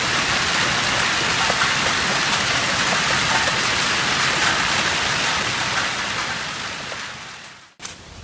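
A hailstorm pounds a work parking lot where a Suzuki car sits, making a loud, dense, continuous roar of impacts that fades near the end, cuts out briefly, then returns.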